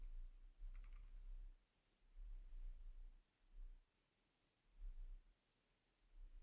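Typing on a computer keyboard, with soft clicking bursts that come in uneven groups over a steady background hiss, close and fairly quiet.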